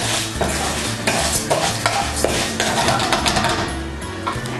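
Orzo pasta browns in a pan while a spoon stirs it, producing a close sizzle with repeated scraping and clinking of utensil against metal throughout.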